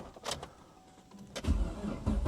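An old car engine cranks and fires up, its low rumble building and settling into a rough idle after a brief starter effort, heard fairly close and alone without talk.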